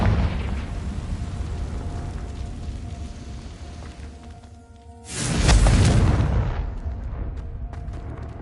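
A Confringo blasting curse in the Hogwarts Legacy video game detonates as a sudden, loud, hissing explosion that swells over a low background rumble, then decays over about two seconds.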